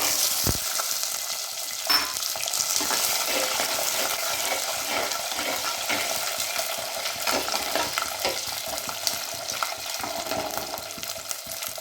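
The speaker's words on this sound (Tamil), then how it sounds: "சின்ன வெங்காயம் கொஞ்சம் நல்லா வதக்கிடலாம்." Garlic and shallots with dried red chilies and curry leaves sauté in hot oil for a spicy gravy, producing a loud, steady close-up sizzle with stirring scrapes throughout and no voices.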